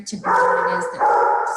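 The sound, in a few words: dog barking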